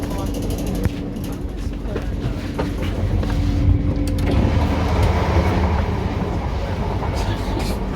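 A Horsham to Peterborough train passing through the station on a hot day, a loud continuous rumble with rail clatter rising slightly midway, close by with some voices in the background.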